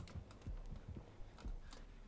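The killer's heartbeat terror radius in Dead by Daylight, a quiet low double-thump pulse repeating about once a second under faint game ambience.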